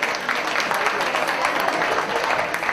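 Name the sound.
applause at fashion show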